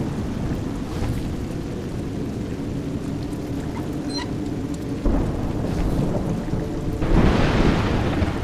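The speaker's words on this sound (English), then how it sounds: "It's raining." Video game rain pours steadily throughout with low rumbling thunder rolling underneath, swelling louder near the end.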